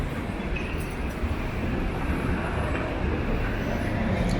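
A subway train at the 5th Avenue Bryant Park station in New York rumbles steadily and loudly, a dense continuous roar of wheels and carriages with no talk heard.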